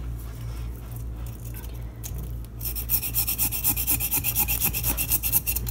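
Scales being scraped off a carp, rhythmic rasping strokes that start after a quieter stretch of handling and continue as steady, close, repeated scrapes.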